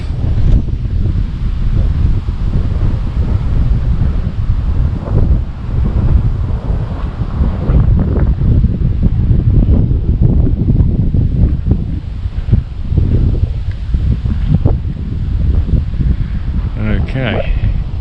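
Strong wind buffets the microphone in a loud, continuous roar outdoors at an RC flying field, where a Volantex Phoenix 2400 glider climbs under motor power; a voice speaks over the rushing gusts.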